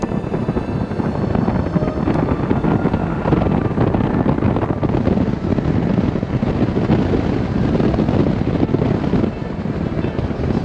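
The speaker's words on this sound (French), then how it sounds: "On entend que le vent, quoi, c'est tout." Wind roars steadily past the microphone while riding an Alrendo TS Bravo electric motorcycle, a loud continuous buffeting rush with no motor noise heard.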